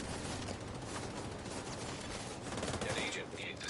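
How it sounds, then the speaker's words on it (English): Enemy gunfire in the video game The Division 2, with bullets coming through walls: a dense, continuous wall of rapid shots and impacts, loud and unbroken for the whole stretch. "They are really shooting through the walls."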